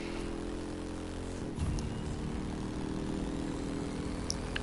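A motorcycle engine from The Crew 2 racing game drones steadily and fairly loud throughout, with a rougher surge partway in and faint game music mixed beneath.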